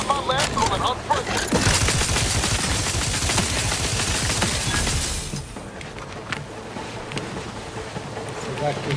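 Sustained rapid machine gun fire in Outer Worlds 2 on Paradise Isle, a loud continuous stream of shots for about five seconds, then scattered quieter game sounds as a voice talks.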